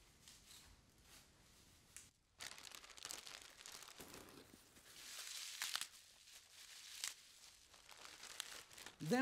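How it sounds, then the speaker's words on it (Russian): Plastic bags crinkle and rustle softly in irregular handling noises, close by, as bunches of cabbage and parsley are packed into them, with occasional sharper crunches and no talking. "Я положу по пучку капусты и петрушки в каждый пакет."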